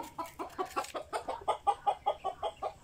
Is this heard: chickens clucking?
yes